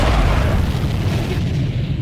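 A suicide bomber blows up in the video game Badlanders, a loud, deep booming blast whose heavy rumble holds steady for about two seconds and fades slightly near the end.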